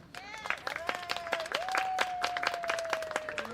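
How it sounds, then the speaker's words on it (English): An arts event audience gives a round of applause, with distinct crisp claps in a loose rhythm and a long, steady whistle-like tone held over much of the clapping. "Round of applause for these young people, please."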